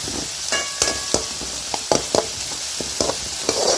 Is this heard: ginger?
yes